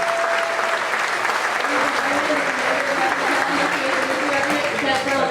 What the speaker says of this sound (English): please join us in giving these fine soldiers a round of applause.